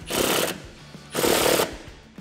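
A power tool drives down a Schroth QuickFit harness bolt in a 2005-2017 Mustang, with two loud, close, rattling impact bursts of about half a second each, a short pause between them.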